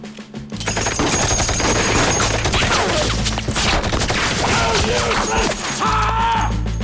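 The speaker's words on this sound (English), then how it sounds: "Commence firing!" Soldiers firing rifles in a sustained volley of gunfire, dense overlapping shots and crashes filling the whole stretch loudly and close, with a brief shout near the end.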